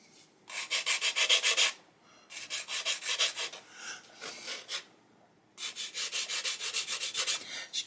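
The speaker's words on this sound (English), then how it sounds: "Just give it a quick little sand and no real pressure, just the back and forth motion will take that off." Light back-and-forth sanding smooths a sprue attachment point on a 1/48 M1A2 Abrams plastic model hull, in three close bursts of quick rhythmic rubbing separated by short pauses.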